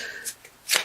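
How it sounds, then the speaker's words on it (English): Tarot cards being shuffled by hand in a few quick riffling bursts, close and crisp, with brief pauses between them and no talking. "So I feel like these want to be shuffled."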